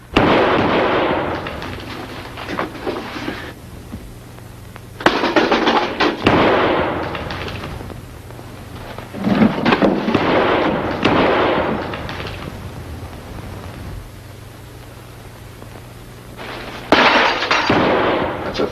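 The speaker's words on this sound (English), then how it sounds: "It's a 6-shooter. And you fired your last shot." A .38 caliber six-shooter revolver fired in a crime mystery film, several loud sharp shots spaced seconds apart, each followed by a long ringing decay.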